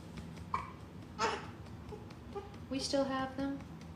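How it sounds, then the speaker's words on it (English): A baby hiccups a few times, small abrupt catches spaced irregularly, with soft babbling and an adult voice murmuring between them. "No, we still have the hiccups."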